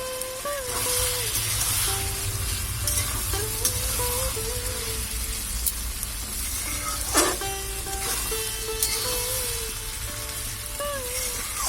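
Potatoes cooking with spice paste in oil for a pangas fish curry give a steady, close hiss of frying with occasional stirring clinks, while a faint tonal sound wavers in the background.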